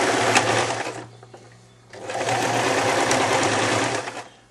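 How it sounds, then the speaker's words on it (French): A sewing machine runs close and loud, stitching a fluffy neck warmer, then stops briefly before starting again in a steady, continuous run. "je démarre le piquage"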